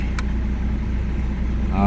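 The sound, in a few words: car engine running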